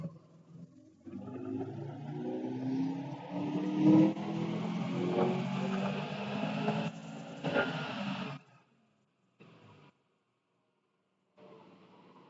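A Subaru STI engine pulls hard under boost toward redline, a loud rising roar that builds for several seconds, cuts off sharply, then leaves short quiet gaps.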